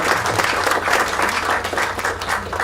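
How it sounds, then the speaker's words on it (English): Audience at an electors' general meeting applauds steadily, a dense, continuous wash of clapping from a crowd filling the whole stretch without a voice over it. "massive round of applause"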